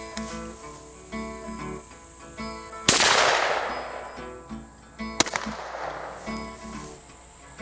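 A Turkish FedArm SS410 shotgun fires double-aught buckshot at a target 15 yards away, producing two sharp, loud blasts a couple of seconds apart, each followed by a ringing decay over a steady background hum.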